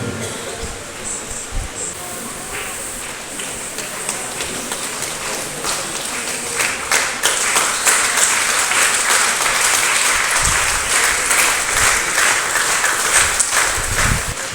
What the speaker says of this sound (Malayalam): നല്ലൊരു കയ്യടി കൂടി